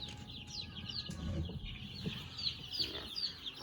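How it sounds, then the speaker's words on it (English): Chickens cluck continuously at close range, a busy, uneven stream of short calls from several birds with no speech over them. "You being a mama to the chickens, Peanut?"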